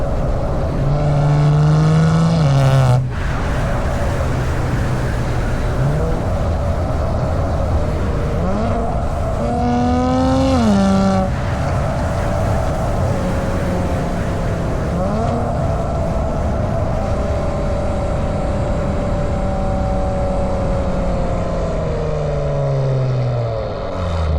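Kia Stinger on its stock exhaust, the engine holding a steady loud drone with a few rising rev swells and shifts, close and continuous, with no talking over it.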